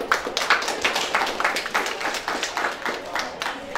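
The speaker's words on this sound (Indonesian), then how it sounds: "Luar biasa, tepuk tangan dong." An audience claps at a foundation anniversary gathering marking Isra' Mi'raj with charity giving, a steady patter of scattered hand clapping at moderate distance.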